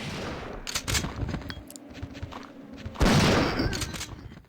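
Shotgun blasts at zombies in Resident Evil 3: Nemesis on PC: several loud, booming shots in close succession, with a heavier burst near the end.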